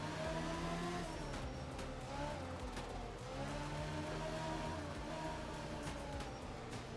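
Rally car engine from the art of rally video game, revving steadily through a stage with shifting gears and tire noise, loud and continuous throughout.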